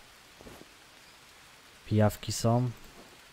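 Steady in-game rain in the survival game Green Hell, a constant soft hiss across the whole stretch, with someone speaking briefly over it near the end.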